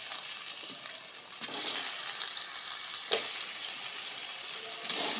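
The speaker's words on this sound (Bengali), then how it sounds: "এর মধ্যে আমরা পনিরগুলোকে ভেজে নেব" Paneer frying in ghee in a pan sounds as a steady, close crackling sizzle, with brief stirring clatter partway through and no voices.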